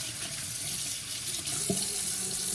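Water runs steadily from a tap while an electric shaver is rinsed under it, a constant close hiss with a brief splash partway through and no talk.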